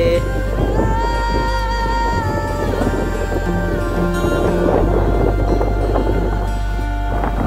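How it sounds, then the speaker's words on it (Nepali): Strong wind roars and buffets the microphone in a loud, continuous rumble, shaking bamboo overhead, with tonal humming and rattling mixed in. "हावा चलेको हावाले उडाइ लान्छ जस्तै छ"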